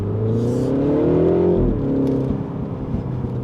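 A Mini Countryman John Cooper Works ALL4 engine revs up, its pitch climbing steadily before dropping as it shifts with the paddles, with a smooth whirring tone close by, heard from inside the car.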